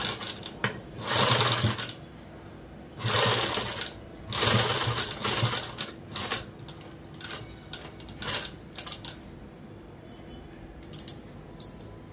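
A sewing machine stitches a long frock dress in several loud, rapid bursts, pausing briefly between runs of stitching.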